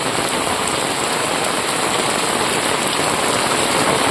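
Heavy rain pours steadily during a downpour in a Tirunelveli district village, a dense, continuous hiss of drops hitting surfaces and running water close by, with no voices.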